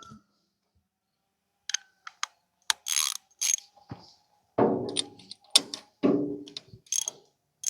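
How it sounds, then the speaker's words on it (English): A socket ratchet tightens a spark plug on an antique Ford 8N tractor, giving close, crisp clicking ratchet strokes in short irregular bursts with pauses between. "Then we'll get the socket on him. Get him torqued just right."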